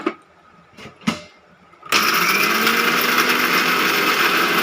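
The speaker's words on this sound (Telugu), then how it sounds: "గ్రైండ్ చేసేయాలి" An Indian mixie mixer grinder grinds ingredients for a laddu. A couple of light knocks come first, then the motor kicks in abruptly to a loud, steady, high whirring grind that runs on continuously.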